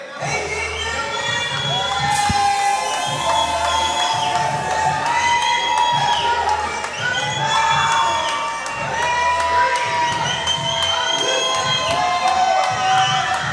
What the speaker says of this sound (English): You hear some fans in the audience showing their applause for AERO Crab.